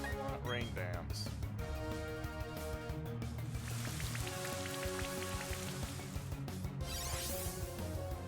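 Steady rain from the Rain Dance move in Pokemon Shining Pearl, a dense hiss of drops layered over game music and bright electronic effects, continuous throughout.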